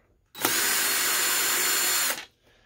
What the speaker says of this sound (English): Go ahead and unscrew our speaker.